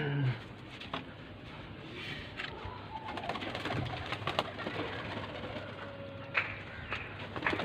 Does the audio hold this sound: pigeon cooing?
yes